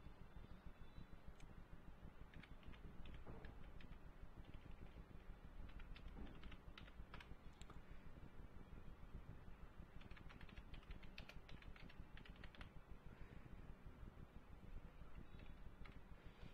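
Steady, rapid clicking of keys on a computer keyboard as a username and email account is set up, faint and continuous over a low hum, with no voices.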